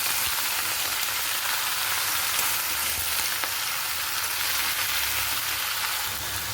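Malabar spinach fries and gets stirred in a pan with salt, turmeric and torn green chilies, giving a steady, dense sizzle that stays close and even throughout with no voices.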